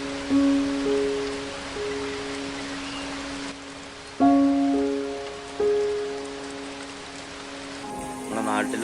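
Heavy rain pours down on a rainy day over flooded paddy fields and streams, a steady close hiss that holds throughout, with a few brief tonal hums sounding over it.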